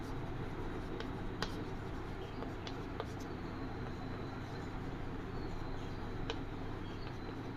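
Chalk or marker writing on a classroom board makes faint, sparse taps and scratches over a steady noisy room hum, with no clear talking.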